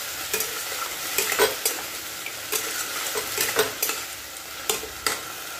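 Potatoes frying in a pan for ghugni while being stirred, repeated scraping strokes of a spatula over a constant sizzle, close and clear.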